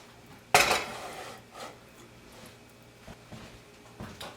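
A metal lid is set onto a pot of homemade split pea soup with one sharp clattering clank, followed by a few faint soft taps and kitchen handling noises in a quiet room.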